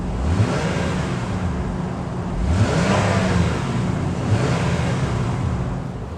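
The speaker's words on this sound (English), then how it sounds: "they're also going to produce that sound from the V6 engine" A 2019 Acura MDX A-Spec's V6 engine exhaust note rises and falls in two or three revving swells over a steady engine drone, heard close and fairly loud with no talking.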